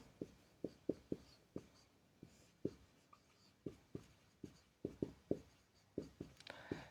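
Chalk or pen writing during a maths lesson makes quiet, close, rhythmic taps and short strokes in quick bursts, with no talking.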